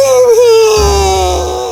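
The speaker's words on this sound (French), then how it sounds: "bébé Léa se mit soudain à pleurer." A baby's cry from a French fairy tale about a magical kitten: a single drawn-out wailing cry that slowly falls in pitch, loud and close, with low background music underneath.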